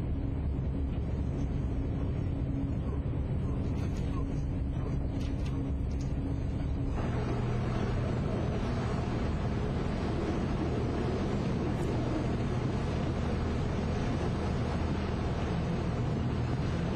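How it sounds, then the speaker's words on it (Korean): A boat ride on the open sea heading toward Cheongsando: a continuous engine rumble mixed with wind buffeting and wash, loud and unbroken throughout, with a shift in tone partway through and no talking. "오랜만에 다시 배를 탔다."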